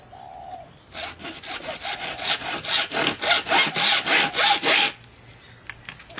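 A hand saw cuts through PVC pipe in about a dozen quick back-and-forth strokes, loud and close, with a bird cooing faintly before the cutting starts.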